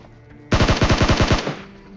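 Loud, close automatic gunfire in the PUBG video game: about ten rapid shots in a tight burst lasting under a second, then a short decaying echo.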